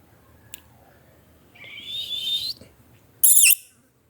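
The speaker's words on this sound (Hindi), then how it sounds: "चिड़ियों की आवाज़ें सुन के ये उठ के बैठ गया" Birds call near a baby at home, with a thin rising whistle-like note followed by a sharp, loud, shrill chirp, set against quiet room background.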